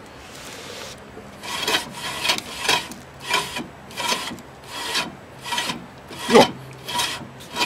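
Loosened rust scraping inside the rear drum brake of a Renault Twingo as the hub is turned, giving a steady run of rough rasping strokes about twice a second, near and fairly quiet.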